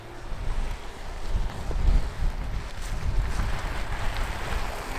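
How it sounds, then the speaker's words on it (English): Steady wind buffeting the microphone in rainy, cold weather, a broad rumbling roar with gusts swelling and fading, no voices. "It's windy and rainy and cold."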